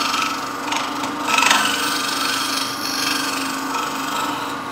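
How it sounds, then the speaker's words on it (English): A traditional scraper taking light cuts inside the base of a threaded wooden box spinning on a lathe, giving a continuous rasping, scraping hiss over the steady hum of the machine. "Now I'm taking a traditional scraper and I'm going to just clean up the inside of my base."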